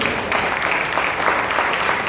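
A church congregation in Ecuador applauds together, a sustained burst of many hands clapping at a steady pace, fairly loud and close, with a faint voice underneath.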